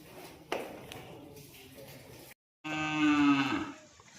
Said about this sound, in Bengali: গরু খুব ফুসফাস করছে